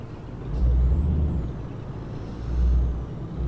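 A truck air brake in the driving game Euro Truck Simulator 2, two loud hissing releases over a low idling engine rumble, close and without speech.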